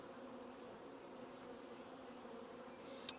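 Honeybees buzz steadily around nuc boxes, a continuous soft, even drone from many insects with no talking, and a brief faint click near the end.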